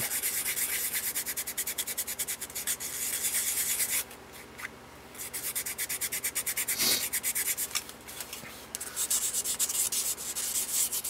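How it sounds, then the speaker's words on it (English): Steady wet sanding on a scale model's plastic windshield, a continuous rhythmic rasping scrub with brief pauses, close and fairly loud, no talking. "This wet sanding is probably going to lift this"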